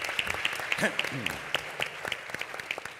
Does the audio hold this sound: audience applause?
yes